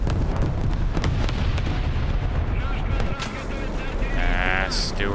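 Heavy gunfire and shell impacts hit a tank during a War Thunder ground battle, loud rumbling bursts and cracks rolling on for several seconds with sharp hits scattered throughout.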